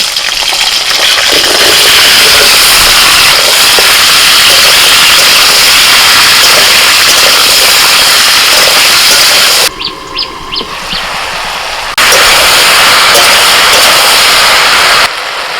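Vegetables hit hot oil already spiced with dried chilli, bay leaf and five-spice, letting out a loud, steady sizzle and hiss that stays strong throughout, with a short quieter dip partway before the full sizzle returns.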